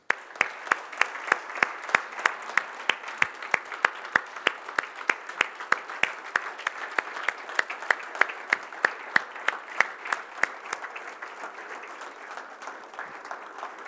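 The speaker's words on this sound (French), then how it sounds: "Ernest mérite nos applaudissements." Seminar audience at a Rotary Foundation closing event applauding, with loud, sharp individual claps standing out over a steady background of many hands, continuing evenly for over ten seconds before slowly tapering off.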